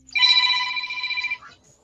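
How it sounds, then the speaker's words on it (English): A telephone rings with a bright, steady electronic trill lasting over a second, close and loud, then trails off into a faint tail; no one speaks over it. "my phone is actually ringing"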